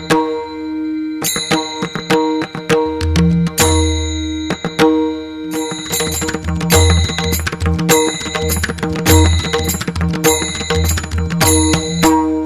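A ringing bell effect sounds as a subscribe reminder, struck over and over in loud, bright bursts with short pauses between groups and a low hum beneath, with no talking.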